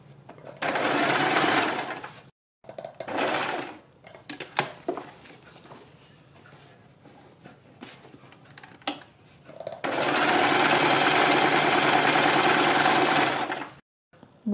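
A sewing machine stitches a neck design on buckram fabric in two long bursts of steady whirring, separated by a quieter stretch of handling clicks and pauses.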